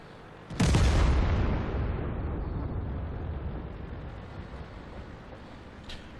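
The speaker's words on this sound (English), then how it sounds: "Ready to fire." A single loud cannon blast from a tank in the World of Tanks video game booms close up, then rumbles and decays over several seconds, followed by a faint metallic click.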